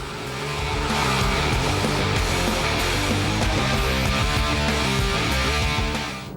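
A Porsche Cayman S with a 239 kW mid-mounted engine is driven hard: loud, continuous engine roar with tire noise, building in and easing off at the end, with no talk.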